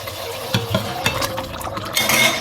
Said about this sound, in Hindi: दही भी भुन रहा है, मसाला भुन गया।